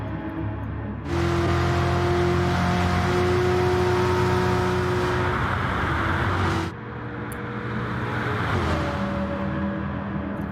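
Race cars overtaking on the Bathurst track during a three-hour endurance race: a loud, sustained engine drone with steady pitch cuts off abruptly, then another engine rises and revs on.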